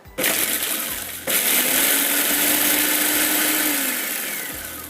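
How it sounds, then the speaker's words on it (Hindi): An electric food chopper whirs continuously while chopping onion and garlic for a beef kebab mixture, starting abruptly, briefly pausing, then running loud and steady with a slight pitch sweep as the ingredients blend. "अब हम इसमें लहसुन के जवे भी थोड़े से चॉप हो गए हैं, बाकी सारी चीज़ें मिक्स हो गई हैं"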